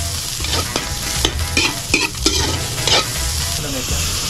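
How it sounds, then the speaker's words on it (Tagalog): Minced whole shrimp sautéed in a pan in Mauban, Quezon give off a loud, close frying sizzle, broken by irregular scraping stirs and clinks of a spatula, with no talking. "ginigisa ang buong hipon na tinatad para mas maging malasa"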